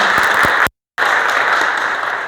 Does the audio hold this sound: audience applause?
yes